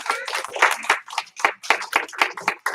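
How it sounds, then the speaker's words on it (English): A group claps for a student in a karate class, in a few quick rhythmic bursts mixed with cheerful voices and chatter. "Give her one clap, two claps."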